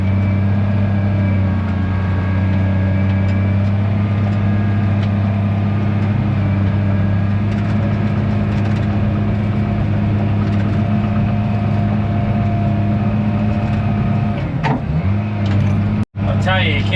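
A D51 bulldozer with LGP tracks pushes slop out of muddy ruts on an excavation site, its engine droning steadily and loudly nearby with a constant low hum and occasional clanks near the end.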